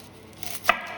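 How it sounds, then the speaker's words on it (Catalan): A single crisp knife chop through a peeled onion on a cutting board, close and distinct against quiet kitchen room tone. "i tallem la ceba."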